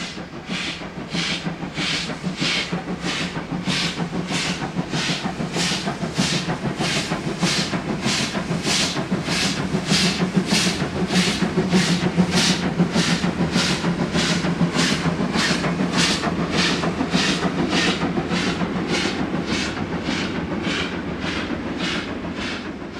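A steam locomotive on a rural German line chuffs steadily and loudly with an even, rhythmic exhaust beat, over a constant hiss and rolling rumble that lasts the whole stretch.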